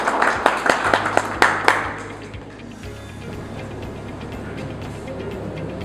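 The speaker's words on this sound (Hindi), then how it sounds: "इनके लिए तालियां हो जाएगी।" Audience applause at a press launch held at a club, a short burst of sharp, close claps for about two seconds that fades into room murmur.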